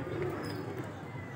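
Pigeons kept for sale coo softly in a loft. Low murmuring calls sound beneath a steady background hum, with no clear talk.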